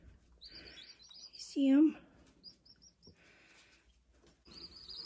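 Newly arrived baby chicks give high, thin peeps in short repeated bursts, faint and close, while a person speaks briefly and another voice makes a louder sound in the middle.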